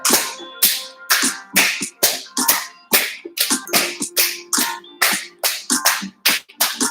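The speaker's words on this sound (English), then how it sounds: "And then take your two hands and clap the top and the bottom of the foot." Two hands clap against the top and bottom of a bare foot in a quick, fairly even run of about a dozen sharp close slaps, with no talking.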